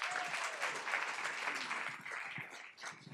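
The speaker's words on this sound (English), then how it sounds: "So let's give them a round of applause to start with." A school board meeting audience applauds a group of honored students. The clapping is sustained and moderately distant, a steady wash of many hands that thins slightly toward the end.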